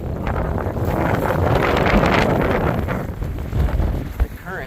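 Wind buffets the microphone aboard a boat anchored beside a channel, a loud rumbling roar that swells and eases, with a voice talking under the gusts.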